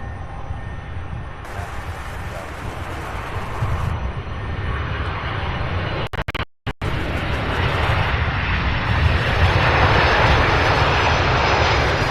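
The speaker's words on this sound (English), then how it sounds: "And then we have another MD-11 directly behind this coming in from Phoenix." A UPS MD-11 cargo jet roars in to land at Louisville airport, its broad engine rumble loud and sustained, briefly cutting out before swelling again, with no talk over it.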